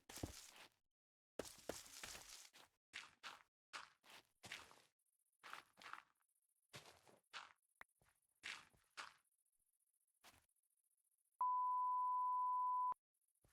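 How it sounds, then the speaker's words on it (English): A sustained electronic beep tone plays for about a second and a half on a live stream, following a run of scattered clicks, taps and shuffling thumps separated by silence. "There's your beep. Enjoy your beep."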